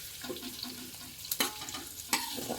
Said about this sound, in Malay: Jadi kita tumis beri sehingga dia naik bau ataupun berbau wangi